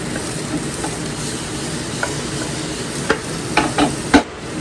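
Onion, garlic and green and red chilies sauté in a pan for bangus sisig, a steady soft sizzle with a few sharp scraping stirs near the end.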